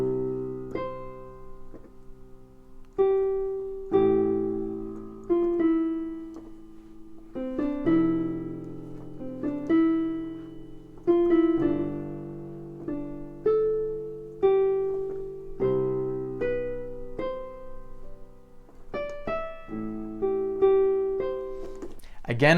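Solo piano improvisation with the sustain pedal, the pedal lifted and reset at each chord change. Steady chords and melodic notes ring and decay into one another at a moderate pace, close and clear.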